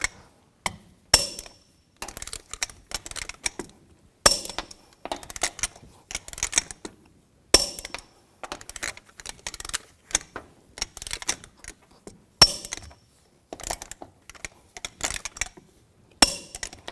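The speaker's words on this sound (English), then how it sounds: "Now I'm going to torque the lug nuts to 140 foot-pounds in a star pattern or a cross pattern" Rapid ratcheting clicks and metallic clatter from a torque wrench tightening lug nuts on a 2000-06 Chevy Tahoe wheel, bursts of clicking repeating nut after nut close to the ear.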